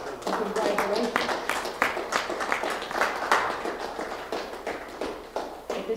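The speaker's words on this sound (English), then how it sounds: "will you give yourself a round of applause and congratulations?" A round of applause from the audience at a high school National Honor Society induction ceremony, brisk uneven clapping in a room that rises and falls over several seconds with a voice mixed in.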